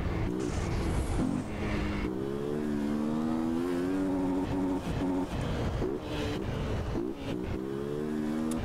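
XRE motorcycle engine in the video game GTA San Andreas, revving repeatedly in close bursts with rising and falling pitch, loud and continuous with no talking.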